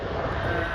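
A Lufthansa airliner passing at Manchester Airport, a steady broadband jet roar that fills the short moment at close range with no break or voices.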